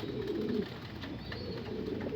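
Soft, continuous cooing of pigeons, several birds murmuring together at close range with a low rumbling tone throughout.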